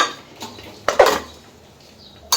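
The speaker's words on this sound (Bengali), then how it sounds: "এবার এগুলো দিয়ে আমি একটু নাড়িয়ে নেব।" A utensil stirs chicken with spices and onion in a metal cooking pot, making a few sharp scraping clanks and knocks against the pot in irregular bursts, close and clear, with no talking.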